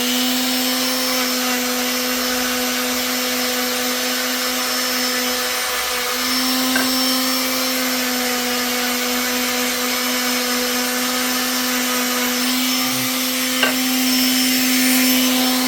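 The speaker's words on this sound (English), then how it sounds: "I'm gonna grab the sander real quick." A power sander works the ends of wooden dowels, smoothing off splinters for a homemade foil and plastic wrap dispenser, giving a steady, unbroken motor drone and whine that holds at an even level throughout with no talking.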